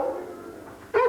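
Greyhounds at a breeding kennel holding over 100 dogs; a soft whine fades out, then one sharp, close bark or yelp breaks in at the end.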